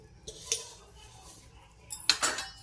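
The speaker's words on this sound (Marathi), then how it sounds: "इथे आपले गुलाबजाम आता पाकामध्ये आपण टाकून घेऊया." Khoya gulab jamun go into sugar syrup in a pot, heard as two short bursts of metal spoon clinks against the vessel, close and fairly quiet, with near silence between them.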